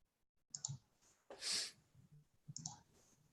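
Computer mouse clicks, a few quiet, sharp taps spaced apart in a hushed room.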